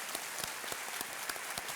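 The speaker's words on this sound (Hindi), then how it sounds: "तालियों के साथ इनका स्वागत करते हैं" Studio audience on a Hindi TV quiz show set applauds to welcome celebrity guests, a steady wash of clapping with sharper individual claps standing out at moderate, somewhat distant level.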